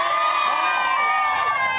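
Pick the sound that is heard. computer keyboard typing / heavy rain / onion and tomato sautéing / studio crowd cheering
studio crowd cheering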